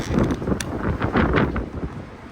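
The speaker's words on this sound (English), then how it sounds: "It is windy as shit in here." Gusty wind buffets the microphone in a steady, loud rumble with broadband rushing noise throughout, with no one speaking.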